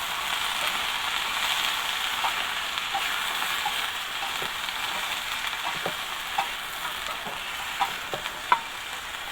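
Long beans being stir-fried in a pan over a camp fire at a garden hut, with a steady hiss of frying and scattered light scrapes of the spatula.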